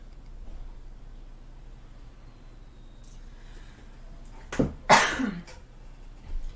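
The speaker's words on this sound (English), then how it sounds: "before the virus thing I would have never coughed like that" One sharp cough near the end breaks a quiet room tone during a painting session, followed by a smaller throat noise and faint ticks.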